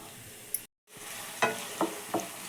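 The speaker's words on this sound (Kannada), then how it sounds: "ಎಣ್ಣೆ ಬಿಸಿಯಾಗಿದೆ ಈರುಳ್ಳಿ ಸೇರಿಸ್ಕೊತಿದ್ದೀನಿ ನಾನು" Onion frying in hot oil in a pan for a dhaba-style mushroom gravy gives a soft sizzle, broken by a brief silent gap and then a few sharp spatula scrapes.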